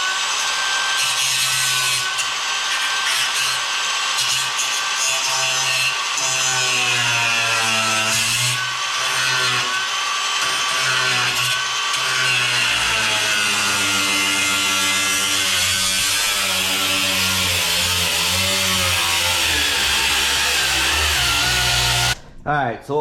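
Rusted lower front quarter and rocker sheet metal on a 1957 Chevy is cut by a power tool in a loud, continuous grinding rasp whose pitch wavers as the blade bites, ending abruptly just before the end.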